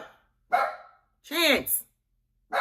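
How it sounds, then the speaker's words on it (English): A pet dog named Chance, also called Bubba, barks in loud bursts close to the mic, with someone speaking to it between the barks. "And that's my dog,"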